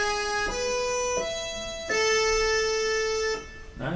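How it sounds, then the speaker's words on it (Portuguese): A keyboard set to an accordion voice plays a guarânia piece. Held reedy notes shift in pitch every second or so, steady and clear with no voices. "O som que eu estou usando aqui é um som de acordeão."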